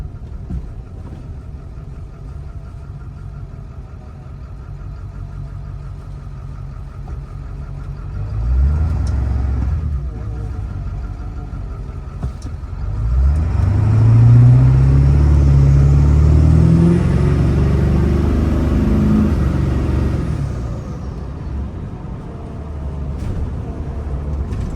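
Cabin noise inside a moving truck fitted with Siless sound-deadening material in the doors: a low, steady road and engine rumble swells louder for a stretch as the truck accelerates, then eases back. No one speaks.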